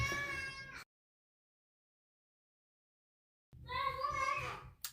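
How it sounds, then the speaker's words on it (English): Children playing together make high-pitched squealing and chattering voices in two short bursts, separated by several seconds of complete silence, heard close and fairly loud. "Don't you just love the sound of kids playing together?"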